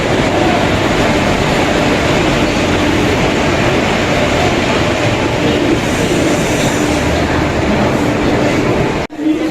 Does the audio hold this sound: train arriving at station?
yes